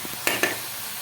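Finely chopped tomato hits a hot pan while cooking gawar bhaji, with two quick scraping stirs over a faint, steady sizzle that fades out afterward.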